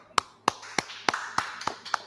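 Audience clapping in rhythm at an evening scripture class, about eight sharp claps at a steady, slightly quickening pace, fairly quiet and close.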